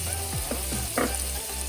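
Onions with garlic ginger paste and cumin seeds sizzle loudly in a hot pan, a dense continuous frying hiss with a few brief scraping stirs.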